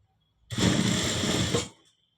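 A sewing machine runs a single quick burst of stitching on the hook piece of a cross cut blouse, a close, steady whir of about a second that starts and stops abruptly.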